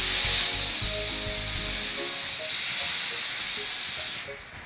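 Vodka hits a hot pan of garlic, setting off a loud, steady hiss and sizzle that holds for about four seconds, then starts to die away near the end, with faint clinks and scrapes underneath.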